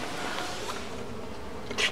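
Honeybees buzz near a hive inside a greenhouse, a soft, steady insect drone with one bee passing close and louder near the end, no voices.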